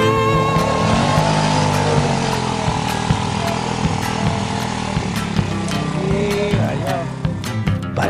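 A motorcycle rides along a narrow rural trail made by locals, its engine droning steadily and loudly close by throughout, with rising and falling revs.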